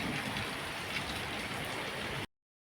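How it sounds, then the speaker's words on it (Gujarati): Heavy unseasonal rain pours down steadily in a village, a dense, constant hiss of drops on surfaces that holds level throughout before cutting off abruptly near the end. "અત્યારે ફૂલ વરસાદ ચાલુ છે"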